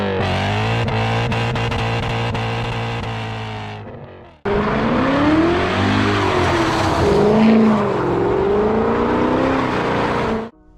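BMW E39 M5 V8 engine revving hard through its exhaust, a long loud rev that drops away, then after a brief gap another sustained rising and falling roar, close and alone.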